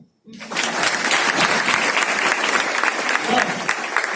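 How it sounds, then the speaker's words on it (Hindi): An audience at a distributor training event bursts into clapping after a brief silence, loud, dense applause that holds steady until the end. "ताली बजाओ।"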